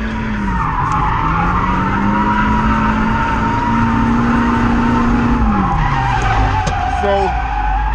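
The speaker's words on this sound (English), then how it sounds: "So with the Miata and drifting, it's just generally about motion." A Mazda Miata drifting at a track, its tires skidding in one long, loud continuous squeal over a steady engine drone, the pitch rising and falling as the slide holds, then dropping away near the end.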